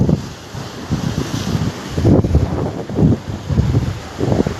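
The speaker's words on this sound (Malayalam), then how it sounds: "കടൽ നല്ല ഇളക്കമുണ്ട് കടലിൽ." Rough sea waves surge repeatedly at Payyambalam beach with heavy wind buffeting the microphone, loud and close, with no talk.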